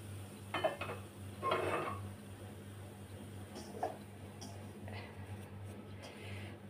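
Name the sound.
mixing karapusa dough with hot oil using a spoon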